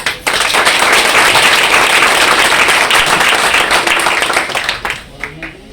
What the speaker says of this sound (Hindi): अपनी सफलता के लिए जोरदार तालियां दीजिए।